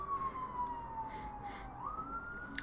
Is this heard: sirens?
yes